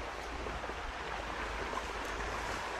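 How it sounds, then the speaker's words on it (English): Two creek streams meet on a Pennsylvania trout creek in late spring, producing a steady, soft rushing wash of flowing water with no voices. "I am just getting down to a spot where two streams intersect here."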